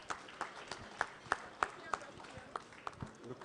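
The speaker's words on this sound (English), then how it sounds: "A round of applause for our leader." An audience at an end-of-year award evening claps for an award-winning leader, a moderate patter of hand claps with distinct individual slaps over a room murmur, heard from a short distance.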